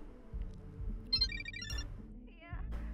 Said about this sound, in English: Oh, another phone call?